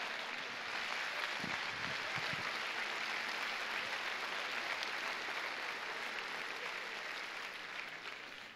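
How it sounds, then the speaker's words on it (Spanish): A church congregation claps steadily at a Sunday service, an even wash of applause that holds for several seconds before tapering slightly, heard at a moderate distance. "Vamos, denle ese aplauso fuerte a Dios."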